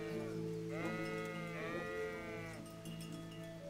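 A sheep in the medieval video game Kingdom Come: Deliverance bleats loudly and close by, giving two drawn-out wavering calls over a steady ambient hum.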